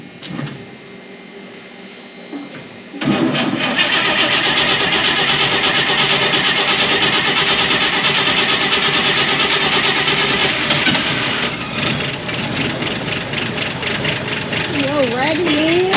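An old 1958 GMC pickup cranks and fires after a quiet stretch, then settles into a loud, steady rough idle that runs on for several seconds, with faint squealing tones near the end.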